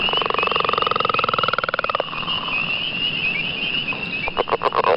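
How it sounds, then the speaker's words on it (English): Leopard frog calling: a long rapid pulsed snore-like trill for about two seconds, then softer croaks and a few sharp chuckling clucks near the end, over a dense background chorus of high peepers. "So I've got our leopard frog sound queued up here."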